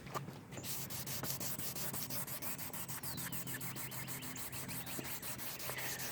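Wet sanding of clear coat on a car headlight with 400 grit paper, a steady rhythmic scrubbing with quick repeated back-and-forth strokes, close and continuous throughout.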